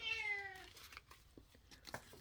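A cat gives one clear, drawn-out meow at the start, fairly faint, followed by soft background rustling and faint vocal sounds.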